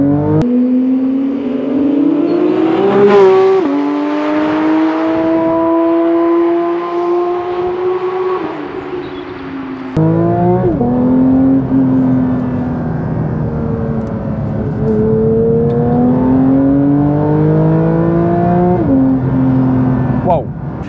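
A Porsche 911 GT3 Touring's naturally aspirated flat-six revs hard from inside the cabin in manual mode, pitch climbing and dropping through gear changes, loud and close, with a voice talking over it.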